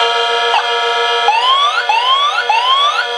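A vintage Star Bird space toy gives its targeting-hit sound: a loud, steady electronic tone broken by repeated rising, siren-like sweeps, close and continuous with no talking.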